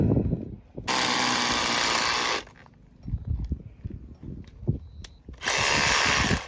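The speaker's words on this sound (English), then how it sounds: "we've gone and borrowed the big bad boy drill for reception so that we can get our pegs in" A power drill whines loudly in two separate bursts while drilling peg holes at a caravan park, with quieter knocking and handling noises between them.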